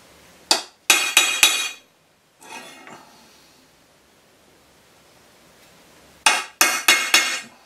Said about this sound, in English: I'm just going to centre punch them.